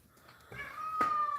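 A house cat meows while being watched at its meal, one drawn-out, close meow rising clearly over quiet room tone in the second half.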